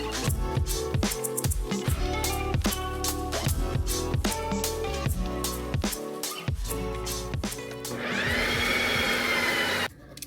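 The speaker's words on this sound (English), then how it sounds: "And tonight we have a Ninja Creamy." A Ninja Creami ice cream machine runs loud and close, its motor thumping in a repetitive grinding rhythm before settling into a steady high whir near the end.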